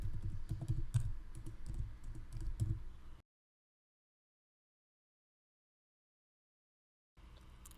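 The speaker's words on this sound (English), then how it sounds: "Let me input my password real quick." Fingers type a password on a computer keyboard in a quick burst of close, clattering keystrokes for about three seconds, then silence follows before faint key clicks return near the end.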